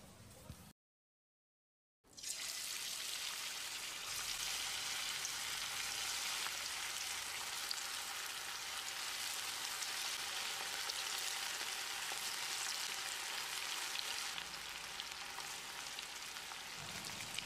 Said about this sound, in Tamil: இப்போ இதை எண்ணெயில் பொரிச்சிடலாம்.